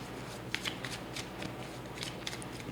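Tarot cards are shuffled by hand close by, with soft riffling and flicking that comes in quick bursts and a few sharper card snaps over a quiet background.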